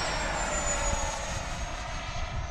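An RC F-22 Raptor model with a 90mm ducted-fan jet at full throttle, a steady loud rushing whine with a high tone slowly falling in pitch as it passes.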